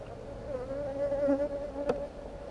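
Honeybees hum steadily around an open beehive, a close, wavering buzz with one sharper flyby passing near the end.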